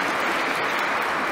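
Audience applause at a literary discussion event, a steady dense wash of clapping that fills the whole moment, loud and close with no voices over it.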